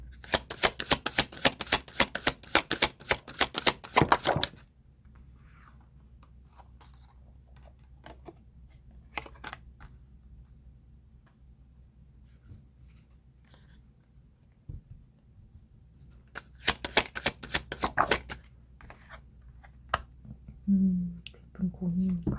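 Tarot cards are shuffled in two dense bursts of rapid riffling flicks near the start and again toward the end, close and crisp, with quiet rustling and soft handling of the cards in between.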